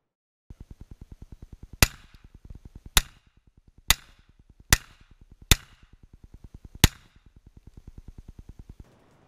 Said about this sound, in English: So when you're firing this, it really feels like a very, very quiet, unsuppressed handgun.